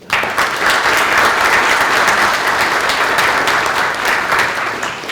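An audience bursts into loud, sustained applause, a dense wash of many hands clapping together that stays steady for several seconds before easing slightly at the end.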